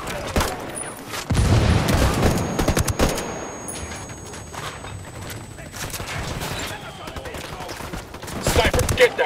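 Gunfire and a grenade blast in Ghost Recon Wildlands: bursts of rapid shots come first, then a heavy boom with debris rattling down, and later more close gunfire bursts.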